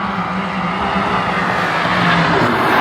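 Car engines roar and rev loudly at an illegal car meet in Belgium, a dense, continuous blare of close-up engine noise with rising intensity and no talk.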